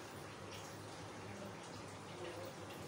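Chilled water streams into an open-mouthed wok (kadhai) for homemade margarine, a steady close, continuous pouring wash throughout.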